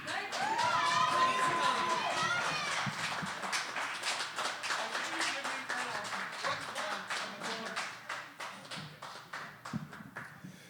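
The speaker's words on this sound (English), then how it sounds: "Please give a huge round of applause to Zack." Audience applause for a poet at a poetry event, a dense burst of clapping with some cheering and whoops that gradually thins out to scattered claps over about ten seconds.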